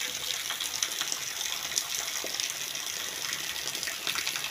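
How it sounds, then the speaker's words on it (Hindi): Steady rain falling in a village in Jhelum, with water running and gushing into a nearby pond, a continuous broadband hiss with scattered small splashes throughout, fairly even in level and with no voices. "ये देखें ये बारिश हो रही है"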